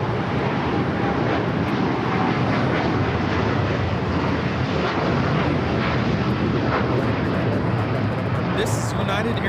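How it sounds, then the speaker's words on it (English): A United Airlines Boeing 787-10 Dreamliner taking off from runway 25 right at LAX, bound for Tokyo Haneda, gives a loud, steady broadband jet roar that holds for the whole stretch. "This is United Airlines Flight 39 taking off to Tokyo Haneda on the 787-10 Dreamliner."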